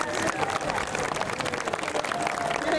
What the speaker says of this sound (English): Big round of applause for Tarek.